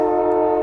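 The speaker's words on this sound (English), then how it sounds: "Trains going by." A loud, steady train horn blares close by, a sustained chord held without a break through the short moment.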